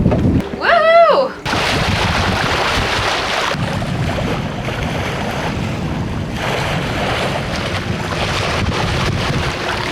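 A sailboat coasting toward New York at about four knots in light wind, with steady broadband wind and water rush throughout after a brief louder burst at the start.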